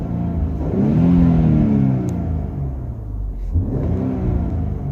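Infiniti Q50/Q60 Red Sport with the VR30 engine and muffler-delete exhaust revs up close and loud with a deep rumbling tone, settles, then climbs again in a second rev, with no talk over it.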